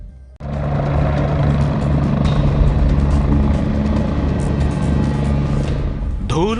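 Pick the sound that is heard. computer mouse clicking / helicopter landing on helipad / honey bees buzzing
helicopter landing on helipad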